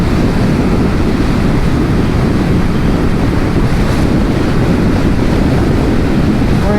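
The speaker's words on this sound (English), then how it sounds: "And obviously there's wind blast, but it's not actually that bad" Wind blast roars loud and constant at the microphone while riding a 2022 BSA Gold Star naked motorcycle on the road, a dense, unbroken rush with no clear engine note or voice.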